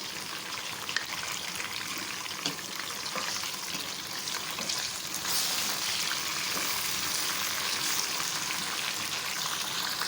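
Garlic, ginger and green chilli paste frying with golden onions in hot oil, a steady close sizzle that grows slightly louder partway through, alone without talk.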